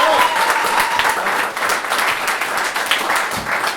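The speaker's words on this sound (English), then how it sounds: "Give these guys a big round of applause." Loud applause from an audience at an improv comedy show: dense, even clapping close by, with a brief voice near the start.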